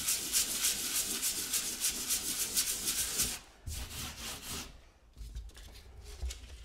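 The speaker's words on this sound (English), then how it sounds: "I'm just going to go onto a rough little piece of sandpaper, which is a little bit fresher" Sandpaper rubs steadily over dried plasterboard filler on a wall in rapid back-and-forth rasping strokes, close and loud, pausing briefly before resuming with heavier scrubbing.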